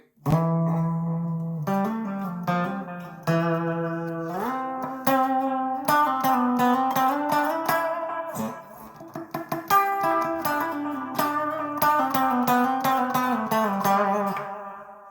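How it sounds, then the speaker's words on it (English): A sustained, distorted electric guitar melody through a TASCAM Model 12 with delay and hall reverb, a lush, echoing tail, notes repeating and lingering in a spacious reverberant wash. "This is delay 2 and hall reverb 2."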